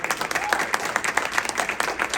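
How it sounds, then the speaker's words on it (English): A roomful of people at a party caucus meeting gives a brisk round of applause for their chair. Dense, even clapping fills the short stretch without any voices over it. "Let's give a round of applause to our amazing chair."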